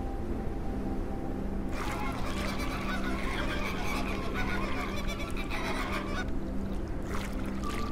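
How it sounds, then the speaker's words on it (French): An African fish eagle, a raptor of freshwater regions of Zambia, gives loud, ringing, repeated yelping calls over a steady background hum, the cries coming in two long bursts separated by a brief pause. "C'est la voix de l'aigle pêcheur d'Afrique, un rapace typique des régions d'eau douce d'Afrique."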